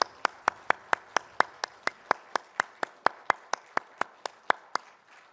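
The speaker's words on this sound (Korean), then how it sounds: "하나님께 영광의 박수 올려드리겠습니다." Sharp, evenly spaced claps at a brisk steady beat from a church congregation at Sunday service, about twenty in a row, close and clear with no talking.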